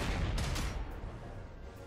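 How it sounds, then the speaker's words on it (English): A Panzer IV tank fires on an M10 Wolverine tank destroyer in a WW2 strategy game, a loud booming cannon blast with rumbling, crackling battle noise that slowly fades. "I'll try and use my Panzer IV against their Wolverine."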